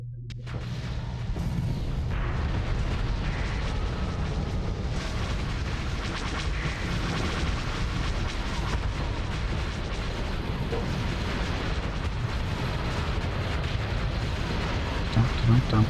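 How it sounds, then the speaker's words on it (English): Spaceship weapons fire in a Starsector space battle, a dense, continuous barrage of booming shots and explosions that stays loud throughout, with a voice talking intermittently over it. "I'm shooting at that ship up there, but we're tearing up all the fighters in between us."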